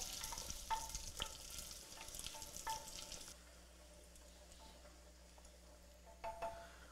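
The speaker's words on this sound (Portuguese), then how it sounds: "Vamos fritar aqui esse alho" Garlic fries in a pan with a faint, thin sizzle and a few soft utensil taps, and the sound drops to a quieter hiss partway through.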